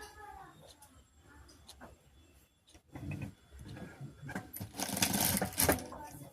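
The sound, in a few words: sewing machine stitching a blouse press-button strip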